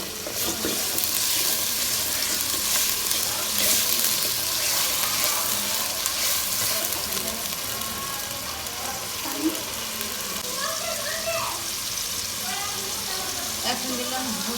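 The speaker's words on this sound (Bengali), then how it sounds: "এরপরে দিব আদা রসুন বাটা" Ginger garlic paste hits a hot pan for khichuri, raising a loud, dense sizzle that holds steady throughout, with occasional stirring scrapes and a faint voice briefly underneath.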